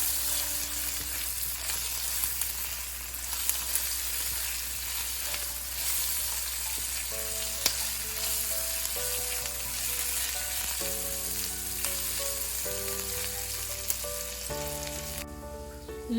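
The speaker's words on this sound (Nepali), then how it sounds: "अब आलुलाई केही बेर फ्राई गर्नुपर्छ।" Salted, thin-cut potato strips frying in a pan give a constant close sizzle that runs unbroken under louder background music.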